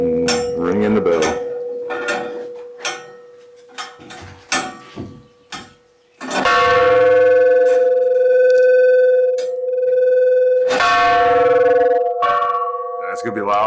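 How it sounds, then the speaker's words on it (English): A bell in a church tower at Chernobyl rings loudly up close, a few scattered clangs and knocks first, then two long sustained ringing strikes with shimmering overtones that slowly fade. "ringing the bell."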